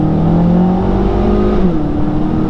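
2019 Hyundai Elantra Sport with its 1.6-litre turbo engine and 7-speed dual-clutch automatic pulling hard from a standstill, a loud close engine note rising in pitch, dipping briefly at a shift, then climbing again.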